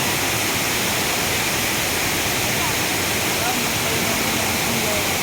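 Encanto Falls, a waterfall with many streams of flowing water, roars as a dense, constant wash of rushing water, close and loud, with a voice faintly present beneath.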